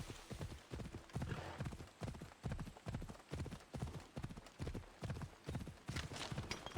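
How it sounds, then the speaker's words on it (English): Horse hooves gallop in a steady rapid clip-clop rhythm on rough ground in the Assassin's Creed Odyssey video game, continuous and fairly quiet throughout with no talking. "call the horse. Get on the horse"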